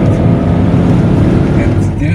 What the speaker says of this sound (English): The sound of this engine, it's amazing.